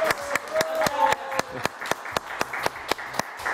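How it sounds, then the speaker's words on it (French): A small group claps for Isabelle and Manon on a children's TV news show set, the sharp, fairly even claps spaced out and close by, with a faint tone briefly heard early on. "On les applaudit très très fort."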